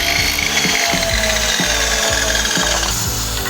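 A power tool cuts the end of a steel bicycle handlebar pipe that is being made into a pull-up bar. It gives a loud, steady grinding whine with a low pulsing throb running through it.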